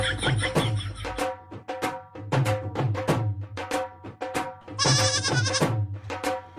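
Goats bleat loudly and close by in a run of repeated wavering calls, several overlapping, with a higher drawn-out cry partway through and short gaps between bleats.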